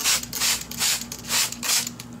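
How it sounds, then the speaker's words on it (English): A handheld spray bottle mists water over microgreens, giving four quick, soft hissing squirts in an even rhythm, close and alone. "Use your spray bottle and just give them a nice spray."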